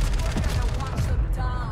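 Rapid gunfire from a weapon in Call of Duty Warzone on Rebirth Island, a dense, steady burst of shots filling the whole moment with loud, crackling reports.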